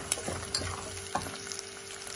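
Onion and fava beans fry in a pan over a gas flame, giving a quiet, steady sizzle with a few soft taps from stirring.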